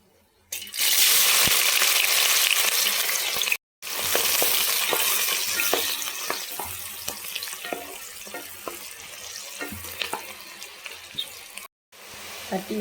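Cinnamon and onion sizzle loudly in hot oil in a pan for tomato rice, with a steady crackling hiss, soft stirring clinks, and two brief dropouts.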